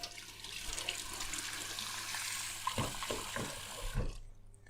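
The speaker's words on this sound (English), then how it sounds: "So I'm gonna fill up my sink with hot water." Hot water runs from a tap into a sink in a home workspace, a steady close gush with a few knocks and clunks near the end before it stops.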